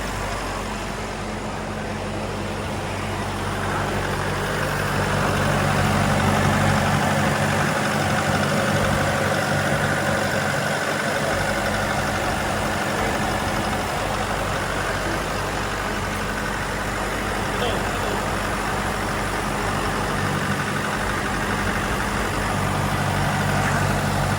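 A Nissan Navara pickup that stalled on the road idles at a raised speed of about 1,500 rpm. The engine hums steadily and loudly at close range for the whole stretch, with no voices.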